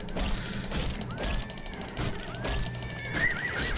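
Horses in the video game Oblivion let out two rising whinnies over a busy, constant game soundscape, each neigh standing clearly above the background.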